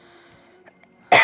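A single short, sharp cough bursts out at the very end after near silence, close and fairly loud.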